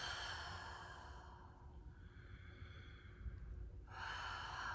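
A slow, breathy exhale during a yoga movement, soft and airy, fading through the middle and swelling again near the end, alone without talk.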